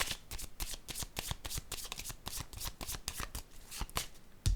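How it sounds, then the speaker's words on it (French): Tarot cards being shuffled close up, a rapid run of crisp riffling flicks and soft card slaps that ends in a sharper tap as a card is drawn. "Allons-y, je vais piger une autre carte sur la transformation."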